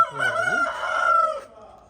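A rooster crows once nearby, a loud, drawn-out call with a rising first part that holds steady and then cuts off, followed by a short quiet moment.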